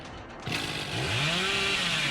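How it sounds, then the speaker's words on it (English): A chainsaw revs up loudly in the Dead by Daylight video game, a harsh rising motor whine climbing in pitch and sustaining continuously over a noisy game background. "You need to get close, and then you need to rev your chainsaw."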